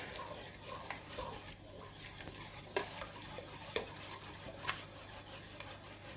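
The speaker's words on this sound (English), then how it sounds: "And then we're going to mix all this together." Pumpkin pie filling is stirred together with melted butter in a bowl: quiet, repeated scraping strokes with a few sharper clicks of the utensil against the bowl, fairly soft and without speech.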